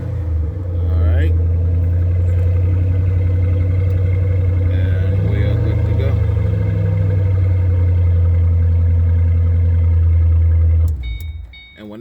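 A 2006 Ford Mustang engine idles steadily for about ten seconds after starting, a loud low rumble running throughout, with a person talking over it before it cuts off near the end.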